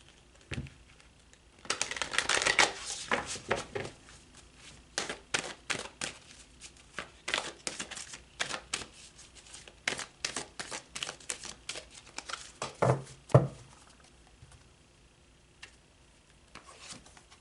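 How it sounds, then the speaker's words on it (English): Tarot cards are shuffled and pulled, a long stretch of close papery riffles, flicks and soft taps in irregular bursts with brief pauses, and no talking. "let's pull some more cards"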